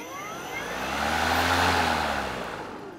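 An EGO battery-powered lawn mower spins up after its clutch bail is pulled, a broad motor-and-blade whoosh swelling to a steady, fairly loud hum close by, with no talking.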